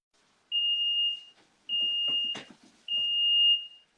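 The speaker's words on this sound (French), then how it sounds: "petit souci au niveau du caramel, ça a déclenché l'alarme" Three long, piercing electronic beeps from a smoke alarm set off by caramel cooking, close and loud, separated by short gaps with faint kitchen clatter and low voices between them.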